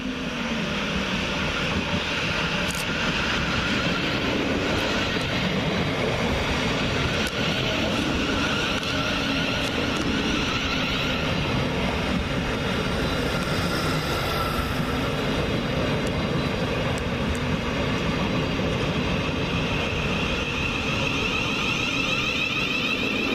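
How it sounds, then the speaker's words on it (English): A Class 700 Thameslink electric train pulls into Preston Park station, a steady loud rumble and roar of wheels and motors that holds throughout with no voices. "here comes our train in the form of 700-132 with the 1337 Govia Thameslink service from Bedford to Brighton"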